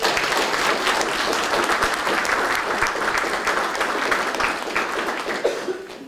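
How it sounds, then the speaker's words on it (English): Hearty audience applause for ROTC staff at a university anniversary celebration, dense and sustained with a few laughs mixed in, gradually tapering off at the end. "Let's give them a round of applause."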